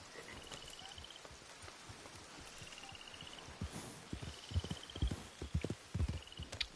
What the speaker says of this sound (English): I ride my own horse in the camp.